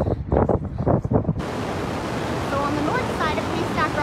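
Ocean surf rushes in a broad, steady roar at Haystack Rock on the west coast, mixed with wind buffeting the microphone, after a few seconds of gusty, choppy noise.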